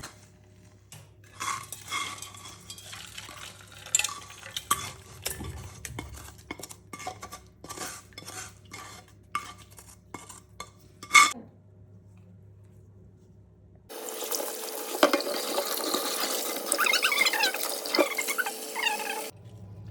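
Clattering and scraping of a non-stick frying pan being scrubbed with salt, with sharp metallic knocks, followed by a steady rush of running water.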